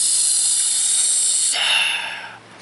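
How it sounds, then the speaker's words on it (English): A forceful, hissing breath is pushed out in a long steady rush during chain punching practice, followed by a second sharper exhale that trails off. "I want to hear your breath coming out."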